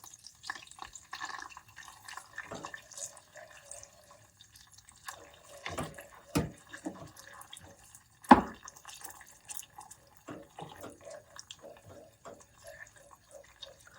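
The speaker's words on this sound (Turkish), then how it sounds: "Açmak için birazcık su ilave ediyorum." Water trickles and drips from a tap as a little is added to dough for manti, soft splashes and intermittent drops with one sharper clatter midway, fairly quiet and close.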